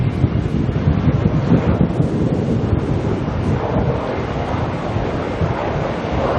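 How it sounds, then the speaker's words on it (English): Strong wind gusts roar steadily across an airport apron, a loud, continuous low rumble buffeting the microphone with no break throughout. "The wind should help us."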